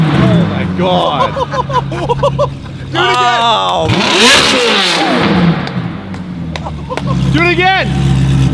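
Sharp throttle blips from a straight-pipe Ferrari F430 echo in a garage, one big rev rising and falling between the rough idle, while excited voices talk and cheer nearby.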